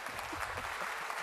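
A tech talk audience keeps up steady, even applause from a large crowd throughout, fairly distant and with no voices over it.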